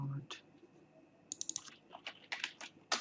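A password typed on a computer keyboard: quiet, quick clusters of close key clicks in irregular bursts, with faint talk in the background.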